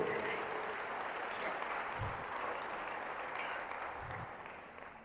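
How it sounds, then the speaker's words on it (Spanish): Church congregation clapping in praise of the King of Kings during a service, a broad, sustained patter of many hands at a fairly distant, even level that softens toward the end, with faint low thumps underneath. "¿Cuántos le dan un fuerte aplauso al Rey de Reyes, al Lord de Lordes?"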